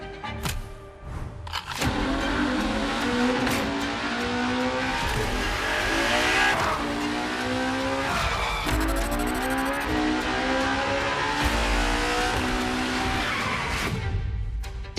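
A Ferrari Enzo supercar in The Crew Motorfest racing game roars steadily and loudly for the whole stretch, its engine revving up and down while the tires squeal through repeated skids.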